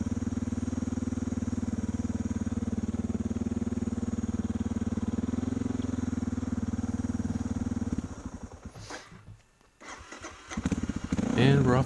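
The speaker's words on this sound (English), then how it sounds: "Got my campsite all picked up, got the bike warming up." A motorcycle idles steadily as it warms up at a chilly campsite, a close, even rumble for most of the stretch before it drops out briefly and comes back as a louder revving burst.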